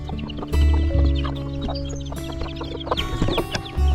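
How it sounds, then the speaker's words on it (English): Hens and a rooster cluck and squawk inside a box while being moved to new mother-hen housing on a farm, with loud close bursts of clucking and rustling, a steady low hum beneath. "Birds in a box."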